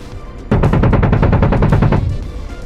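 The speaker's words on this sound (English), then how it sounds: "We're going to use guns." An AH-64D Apache's cannon fires in the DCS combat flight simulator game, one loud, rapid burst of about a dozen heavy thumping rounds lasting around a second and a half over steady rotor drone.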